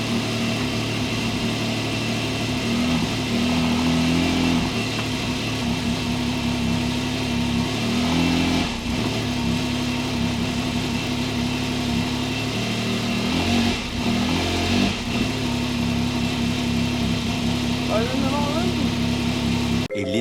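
A Toyota Supra engine idles steadily while warming up, a continuous mid-pitched drone with occasional light revs, with a person talking nearby over it.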